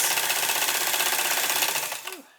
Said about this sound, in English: now just sew this